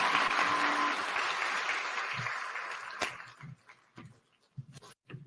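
A crowd at the official opening of Kenya Innovation Week in Nairobi applauds the President with dense, loud clapping that thins out midway into scattered individual claps near the end.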